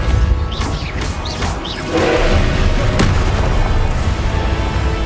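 A Depulso force spell cast in Hogwarts Legacy, a loud booming whoosh and impact, with a sharp crack near the three-second mark, set over a dense, continuous game soundscape.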